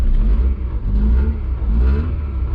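Honda CRX EF with a B20 engine swap idling just after starting, a loud, close, steady low rumble with slight rises and dips in revs and faint mechanical clatter.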